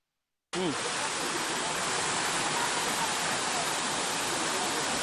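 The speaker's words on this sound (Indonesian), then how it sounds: "air terjun Taeno atau Telaga Pange yang eksotis di tengah hutan rimbun ini" Taeno waterfall, also called Telaga Pange, pouring in dense forest near Ambon: a steady, loud broadband roar of falling water that starts abruptly after a short silence and holds constant with no voices.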